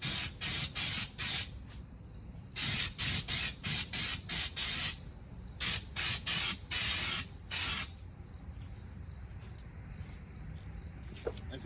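A spray gun applies Raptor liner coating to a 2003 Ford Mustang in loud hissing bursts, some short and rapid and others longer, with quieter pauses between them and a low background hum.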